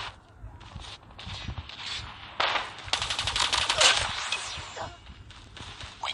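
Bursts of rapid AK-107 automatic rifle fire in a shooter video game, fast rattling strings of shots that come in and out, moderately loud over a game soundscape.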